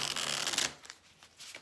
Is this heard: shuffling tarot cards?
yes